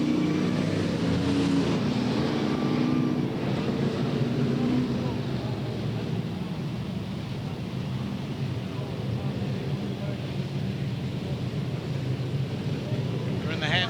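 Super sedan race cars at Yandina Speedway roll around on a pace lap with a steady, continuous engine drone from a distance under a race commentator's voice.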